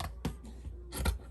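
Scissors snipping through fabric while a scrub cap pattern is cut out, two or three short crisp cuts close by with a light rubbing rasp between them, no talking.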